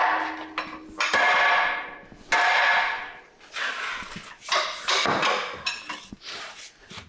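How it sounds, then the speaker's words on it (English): Hammer taps on a stuck part of a truck being freed, including a prison-gate headache rack on a K100 cabover, ringing out as several sharp metallic strikes with decaying tails, spaced irregularly and fairly close. "I bet even if you tap it with a hammer"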